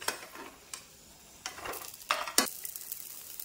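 Potato bolani brushed with a little oil and flipped in a pan, a soft low sizzle broken by several sharp scrapes and knocks of the turner, near and free of speech.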